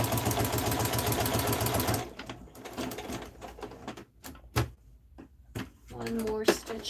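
Sewing machine back-stitching through denim and flannel, a fast, loud mechanical whir lasting about two seconds, then softer clicks and handling noises, with a brief burst of stitching near the end.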